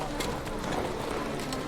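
Roach, Geralt's horse in The Witcher 3, gallops in a quick, even run of hoofbeats under a voice, the clopping steady and fairly close throughout.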